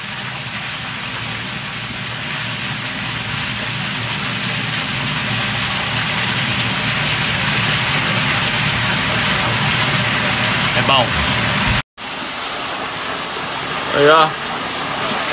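Steady rushing water from a pool waterfall pours continuously like a small cascade, broad and hissing, with a brief voice speaking near the end.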